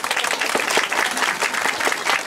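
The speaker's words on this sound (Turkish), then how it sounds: "kardeşimize büyük bir alkış daha alıyoruz" Dense, close applause from the audience at a youth talent show in a theater, many hands clapping together in a loud, steady burst that holds for the whole stretch.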